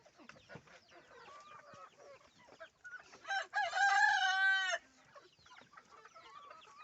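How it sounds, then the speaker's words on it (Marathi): A rooster crows once, loud and close, in the middle, while hens cluck quietly before and after. "मित्रांनो हे आमचा कोंबडा"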